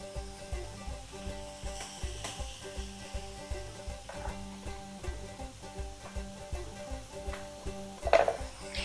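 Eggplant pieces fry in a generous amount of oil, giving a quiet, steady sizzle with soft bubbling pops and a brief utensil clink near the end, with no talking.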